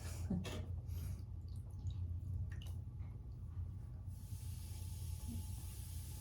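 Hands being washed under running water after working dark clay on a pottery wheel, a continuous hiss of flowing water with wet squishing and rubbing, then a shift to a brighter, steadier spray.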